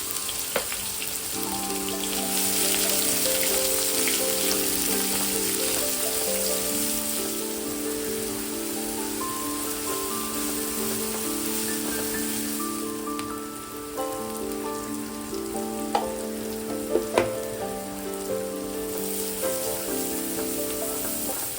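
Chopped onion, ginger, green chili and garlic sauté in a pan with a steady, continuous sizzle under background music.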